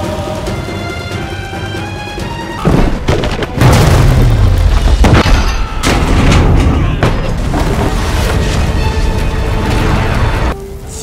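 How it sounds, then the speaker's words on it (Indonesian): A loud booming blast erupts amid dramatic music as a door is blown open, followed by a sustained roaring rumble that stays heavy for several seconds. "Ledakan terjadi, pintu akhirnya terbuka."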